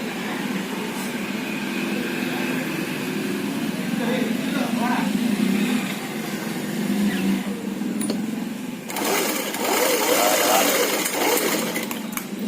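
A sewing machine stitching a cross piece of fabric, with a steady whirring rattle running throughout, a brief pause, then renewed stitching, while a person talks over it.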